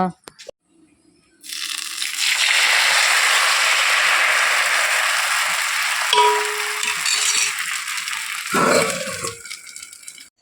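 Dosa batter sizzling on a hot griddle, a steady broadband frying hiss that starts abruptly and holds for several seconds before a few clatters and a brief bump near the end; no voices.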